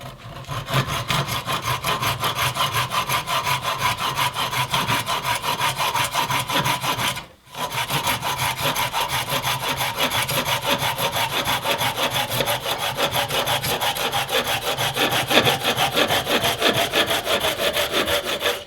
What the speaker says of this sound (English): this saw really picked up and how quickly it was able to get through it